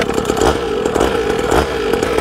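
A cheap two-stroke dirt bike engine runs close by with a buzzy, raspy, chainsaw-like drone, holding steady with small surges in revs throughout, and no talking.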